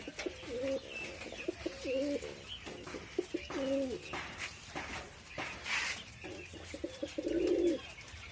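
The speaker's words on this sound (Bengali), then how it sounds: "এর পাশে আছে আমাদের লাক্ষা কবুতর" Lakha pigeons at a quail farm coo in repeated soft, throaty phrases, close and clear, with a few faint chirps from other birds in the background.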